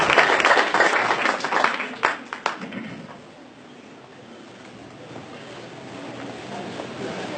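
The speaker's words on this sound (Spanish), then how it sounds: "Dele palmas al Señor." A church congregation claps together, a burst of hand claps that fades after a few seconds into a quiet room murmur.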